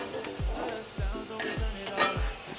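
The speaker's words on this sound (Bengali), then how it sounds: "তেলটা গরম হয়ে আসলে আমি এখানে কিছু পেঁয়াজ লাল লাল করে ভেজে নিব।" Onions fry in hot oil, a steady sizzle under four regular, heavy stirring strokes that knock against the pan about every half second, close and moderately loud.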